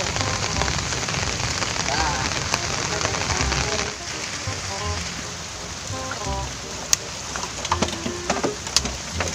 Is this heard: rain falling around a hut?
yes